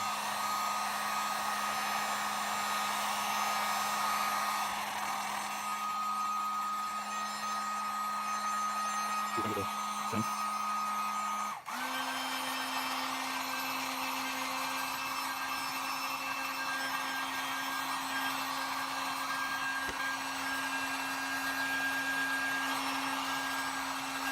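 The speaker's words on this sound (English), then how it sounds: "Just make sure that you move your heat gun around adequately so that you don't damage the material." A heat gun blows steadily and loudly while warming polish on leather boots, a constant whooshing drone with a pitch shift midway, and no talking over it.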